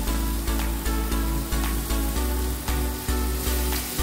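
Ginger garlic paste sizzles in hot oil for a village-style barramundi fish curry, a steady frying hiss running under loud rhythmic background music with a pulsing beat.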